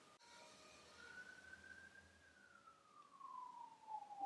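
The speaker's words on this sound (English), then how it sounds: "We just had an ambulance or something, sirens" An ambulance siren wails outside, a faint rising then falling tone that sweeps slowly across the whole stretch against steady background hum, growing slightly louder toward the end as it passes.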